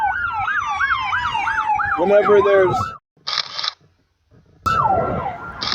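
Emergency vehicle sirens wail loudly in overlapping rising and falling sweeps, then cut off abruptly. A brief burst of noise follows before the siren returns, with a voice speaking briefly.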